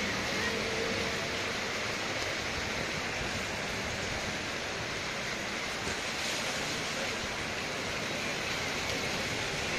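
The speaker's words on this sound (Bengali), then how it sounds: "বৃষ্টি হইতেছে" Rain falling steadily, a dense continuous wash of hiss that stays even and loud throughout without pause.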